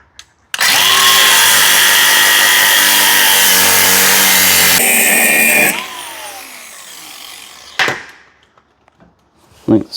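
A loud power tool cuts into a wheel bearing on a 2013 Nissan Titan, a sustained high whine for about five seconds that shifts pitch and then winds down, followed by a few metallic clanks and knocks.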